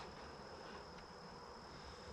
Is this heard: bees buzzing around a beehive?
yes